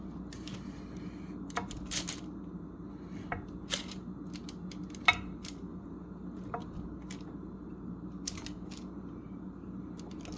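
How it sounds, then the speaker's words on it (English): A metal bench scraper chops rolled saltine cracker dough into small pieces on a work surface, giving sharp, sparse taps and clicks spread unevenly over a quiet room background, with no talking. "I want to take a bench scraper and I want to cut it like this."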